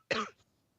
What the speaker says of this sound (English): Sorry, I've still got a bit of a leftover cough.